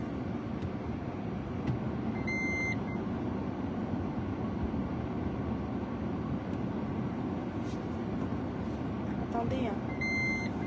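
Cars and trucks roll by on a road in a steady, continuous wash of traffic rumble, with a few short, high electronic beeps standing out.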